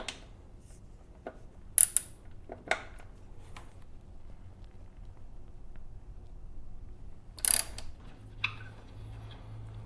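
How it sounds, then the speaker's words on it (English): An 8mm hex key loosens the axle pinch bolts on a Kawasaki Ninja 1000 / Z1000SX rear wheel, giving sparse metallic clicks and ticks with a couple of louder clanks in a quiet garage. "now we're going to loosen the two axle pinch bolts"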